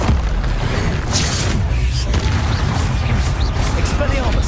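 In Hogwarts Legacy combat, the Confringo explosion spell goes off as a loud continuous rumble of booms and blasts, with spoken voices mixed into the din.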